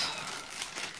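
Plastic bag crinkling as a silicone wristband is taken out of its packaging, a brief, steady, close rustle with soft crackles throughout and no talk.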